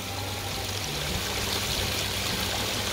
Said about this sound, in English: and just force more of that water over the spillway